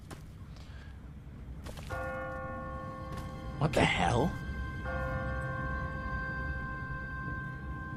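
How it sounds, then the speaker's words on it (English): An automatic church bell in The Walking Dead video game tolls twice, each ring sustained and fading, at moderate distance. A brief exclamation and shuffling sounds come in between the strikes, over low background noise. "No one's ringing that bell. It's automatic. On a timer. What kind of church bell goes off at 20 past the hour?"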